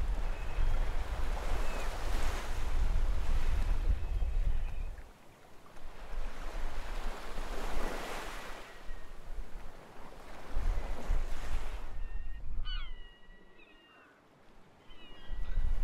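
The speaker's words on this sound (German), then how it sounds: "es ist sehr windig" Strong coastal wind near Malmö, Sweden, rushes and buffets the microphone in long surging gusts, with surf-like roaring and a brief lull near the end.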